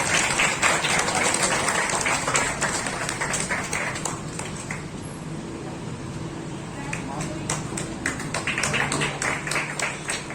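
A school audience at an Independence Day celebration applauds a student's yoga award, loud dense clapping that dips in the middle and then swells again, with voices mixed in through the crowd noise.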